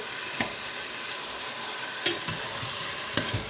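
Minced steak sizzles steadily in a hot pan, a constant frying hiss with a few soft clicks of stirring.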